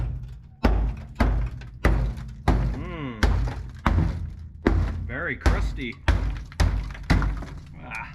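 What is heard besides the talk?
hammering on rusty Volkswagen Diesel Rabbit pickup body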